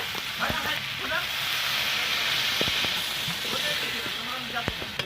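Spiced bitter gourd cooking in a pan sizzles and hisses steadily as water is poured in. The frying noise is close and continuous, with faint clinks and stirring sounds scattered throughout.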